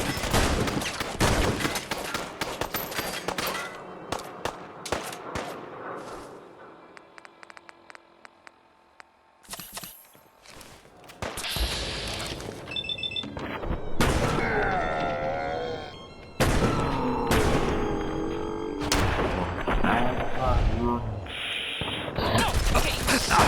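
Heavy gunfire in the Fallout London mod, sharp, loud shots and rapid bursts in uneven clusters, with a quieter lull in the middle before the firing resumes thick and close, mixed with game sounds.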